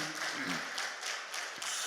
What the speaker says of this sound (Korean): 박수 치려면 얼른 같이 쳐보시오 그냥.